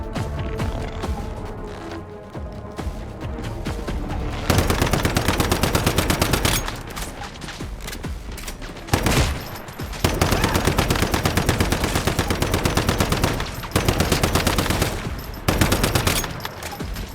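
Gunfire in the video game Once Human, loud bursts of rapid automatic shots in several separate volleys with short pauses between them.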